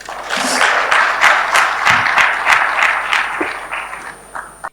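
An audience at a microfinance tech summit gives warm applause after a minister's closing remarks, a full, even burst of clapping that holds strong for several seconds before tapering off.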